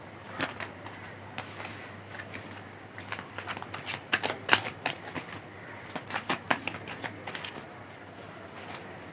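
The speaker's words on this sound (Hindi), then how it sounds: "मैं कार्ड को शफल कर रही हूँ" Oracle cards being shuffled by hand at a tarot-style reading, a close, soft run of riffling flicks and papery patters that thickens midway and then tapers off, with no talk.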